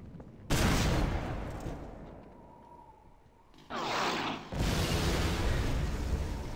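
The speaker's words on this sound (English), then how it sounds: "And they are bombing the crap out of that place." Bombing and gunfire rumble through a battle in Half-Life 2: Lost Coast, a dense, sustained roar of blasts and shots that swells, dips briefly, then surges again, loud and continuous.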